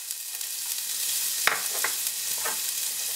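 Crushed garlic added to hot oil with cardamom, cloves, peppercorns and fennel seeds, a steady sizzle broken by a few sharp bursts of spattering and stirring scrapes, close and with no talking.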